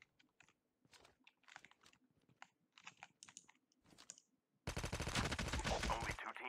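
Sparse sharp clicks and pops give way to a loud, dense burst of rapid gunfire in Call of Duty Mobile battle royale that continues steadily to the end.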